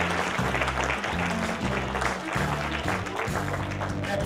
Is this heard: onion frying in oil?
no